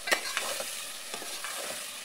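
Potatoes fry in a pan and a spoon stirs them now and then. The sizzle is soft and steady, broken by a few light scraping strokes, and no one talks.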